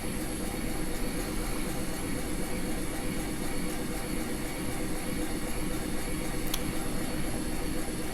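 A rotary engraver works on a cup with a steady, unbroken whir and hum that holds the same level throughout, broad and noisy like a running motor, with no talking.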